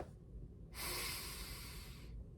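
A single deep breath, a breathy airy rush that lasts over a second, close and fairly soft in an otherwise quiet room.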